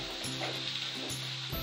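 Square-cut onion sautés briefly in a pan for a veg sandwich, a short close-up sizzle with a low hum that breaks off and returns once.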